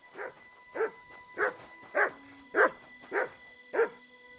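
Mutz the dog barks in Kingdom Come Deliverance II, seven evenly spaced loud barks about half a second apart, clear and close, with no talk over them.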